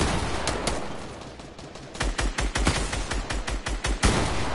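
Rapid gunfire in an online shooter game where a player is being sniped: a dense burst of sharp cracks, then a rhythmic volley of loud close shots near the end, with no talking.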